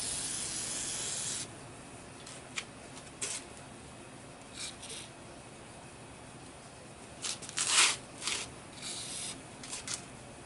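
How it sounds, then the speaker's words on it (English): An aerosol can of WD-40 hisses in short bursts onto a truck starter's O-ring, with one longer steady spray at the start and several brief puffs after, close and fairly quiet. "Got to put some grease on the O-ring, or at least some WD-40."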